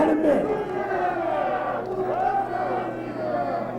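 Sold-out wrestling crowd at Patriot Hall during a deathmatch tournament, a steady roar of voices with shouts and chants rising and falling throughout, close and dense, with an announcer's voice under it.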